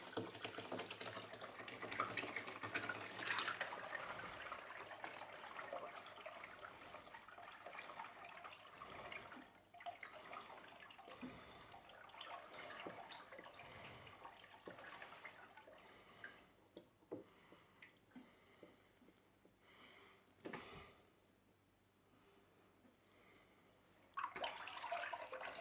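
Water runs steadily during a 300-litre aquarium water change, a broad, continuous wash with occasional drips and splashes, fairly close, then dropping away briefly near the end before resuming.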